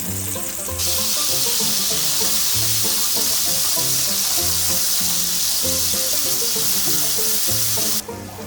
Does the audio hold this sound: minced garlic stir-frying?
yes